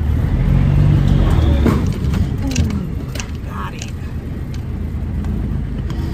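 A cabover truck crawls along with its differential lock engaged, its steady engine drone and grinding drivetrain noise carrying throughout, with faint mechanical clicks and a voice briefly heard over it.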